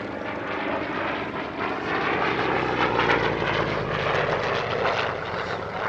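A Yakovlev Yak-11 radial piston-engine trainer flies at the Paris-Villaroche airshow, its loud, throaty engine drone holding steady and swelling slightly as it passes, with no talk over it.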